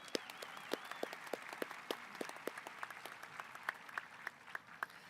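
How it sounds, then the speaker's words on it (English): Sparse applause at a high school graduation ceremony, distinct individual claps from a few nearby hands standing out over a faint, scattered crowd clapping in a large space. "Please give them a nice round of applause."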